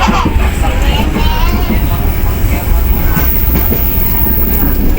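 A train running at speed after leaving Kosambi station, a loud continuous rumble with rattling wheel noise filling the whole stretch.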